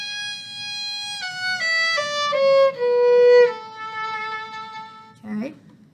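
Solo violin playing a descending passage from the first movement of Handel's Sonata No. 4 in D Major, a few sustained bowed notes stepping downward with a short final note, close and clear with faint room noise and no talk.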